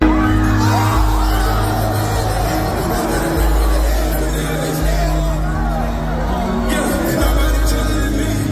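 A concert crowd at a show roars and cheers as a song kicks in, loud continuous whooping and yelling over heavy booming bass from the music.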